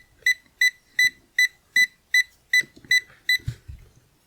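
A TESMEN TMM-569A 4,000-count multimeter beeps nine times in a steady, evenly spaced rhythm of short, bright electronic tones, close and clear, followed by faint handling clicks and a soft thump.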